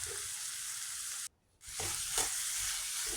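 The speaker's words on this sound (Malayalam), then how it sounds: "പച്ചമുളകും തക്കാളിയും കൂടി ഇട്ട് കഴിഞ്ഞാൽ സവാളയും എല്ലാം കൂടെ നന്നായിട്ട് വഴറ്റുക" Onion, green chilli and tomato sautéing in a pan, a loud steady sizzle that cuts out briefly, then resumes with scraping stirs.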